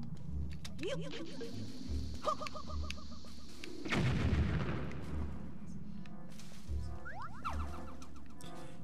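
Bombs explode in the video game Zelda The Wind Waker, one heavy booming blast in the middle among game effects, bouncing boings and honking calls, with people talking over it.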